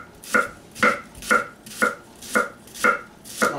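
A knife slicing a shallot thinly on a cutting board, seven evenly spaced crisp chops close up, alone with no talking.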